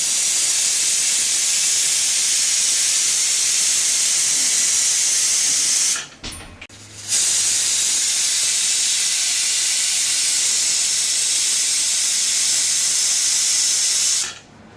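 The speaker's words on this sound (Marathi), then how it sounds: "बघा इथे 3 ते 4 शिट्या झालेल्या आहेत" A handleless pressure cooker, steaming a leafy chakvat vegetable dish, lets out a long, loud, steady steam whistle, pauses about a second, then whistles again until it cuts off near the end.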